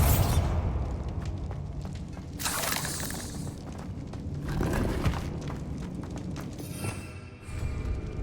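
Bombarda explosion spell in Hogwarts Legacy, heard as loud booming blasts with crackling debris and shattering bursts, layered over dense combat noise.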